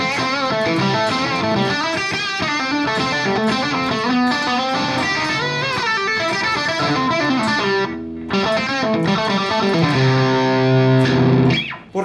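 Distorted electric guitar with high gain plays a dense solo line, loud and continuous throughout, with a brief dip near the end before sustained chords ring out.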